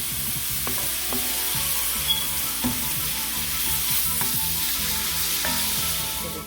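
Bacon frying in a pan with a lot of oil for Southern fried cabbage, producing a loud, steady sizzle with occasional utensil taps and faint stirring, no voices over it.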